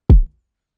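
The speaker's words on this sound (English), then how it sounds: "this is the kick that we are going with." Single punchy kick drum sample for a house and R&B beat, one deep booming hit with a fast attack and short decay, played alone and close.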